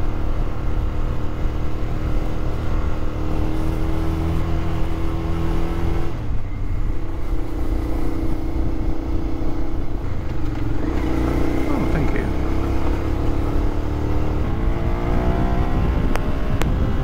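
Suzuki SV650 motorbike, a 70 horsepower retro cafe racer, climbing a really steep hill, engine note rising and falling through several revving pulls, loud and close under constant wind rush.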